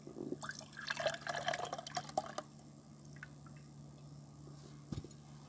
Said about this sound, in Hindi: अब इस रस को जो है हम ये यहाँ पे इस गिलास में डालेंगे।